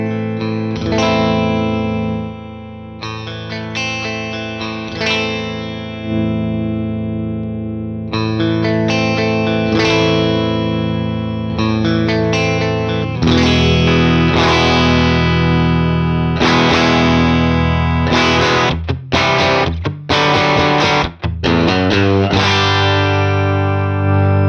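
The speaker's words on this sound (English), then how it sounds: "Let's listen to the different tone stack EQs real quick. We'll be in the middle, kind of clean position." An electric guitar played through a UA Enigmatic Dumble-style amp on a clean tone-stack setting, ringing chords and single notes with a shimmering, effected sustain, strummed in phrases with brief pauses and a busier rhythmic run near the end.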